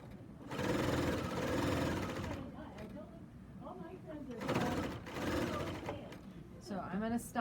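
A serger stitches binding onto a quilt in bursts of fast, buzzing mechanical whirring, stopping and restarting, with a person talking in the pauses.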